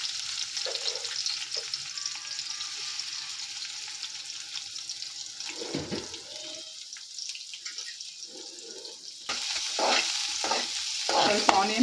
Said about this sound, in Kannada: ಸ್ವಲ್ಪ ಆನಿಯನ್ ಫ್ರೈ ಮಾಡ್ಕೊಳ್ಳೋಣ.